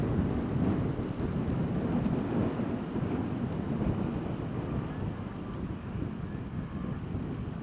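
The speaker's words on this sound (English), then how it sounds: "See the Ryanair just taxiing down to the end of the runway." A Ryanair airliner taxis toward the end of the runway at Newcastle International Airport, a steady, moderately distant jet rumble and whine that holds evenly throughout.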